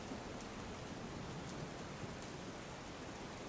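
Heavy monsoon rain in Gujarat pouring down steadily, a dense, even hiss of rainfall on surfaces with occasional louder drops, heard alone without voices.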